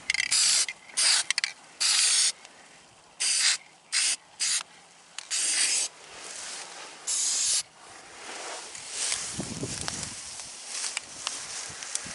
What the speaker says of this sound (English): So that's why we're opting for spray paint rather than grease.